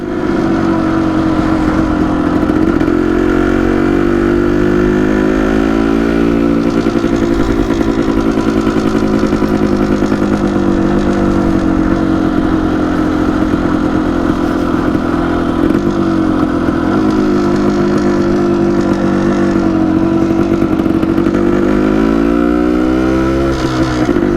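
A 1974 Yamaha DT250 motorcycle runs close and loud, its two-stroke engine buzzing steadily with gentle rises and dips in revs across the whole stretch, no voices present.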